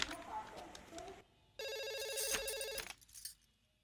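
A telephone in a Telugu film scene rings in a loud, buzzing electronic burst lasting just over a second, following a quieter stretch of voices and background sound, then fades to near silence.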